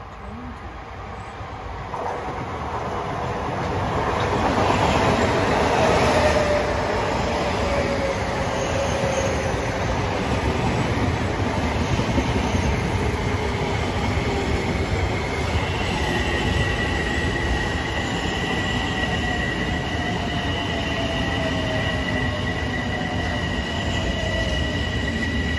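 An LIRR local commuter train bound from Grand Central to Farmingdale rolls through Merillon Avenue station, a loud steady rumble of wheels on rail with drawn-out squealing tones, building over the first few seconds and holding for the rest.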